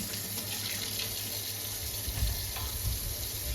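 A kitchen tap runs into the sink during cleaning, a steady, fairly quiet rush of water that continues throughout with no talking.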